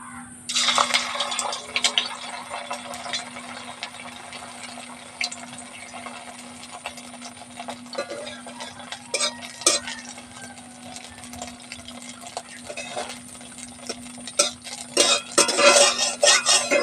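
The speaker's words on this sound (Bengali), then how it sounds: "এবার আমি এই যে কাশ্মীরি পনিরগুলো ভেজে নেব।" Kashmiri paneer frying in hot oil in a wok gives a continuous bubbling sizzle with scattered scrapes and clinks of a utensil, growing busier and louder near the end, with no voices and a faint steady hum underneath.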